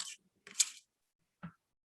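A hand spray bottle misting water onto Brusho watercolour crystals gives three short, close hissing spritzes separated by silence.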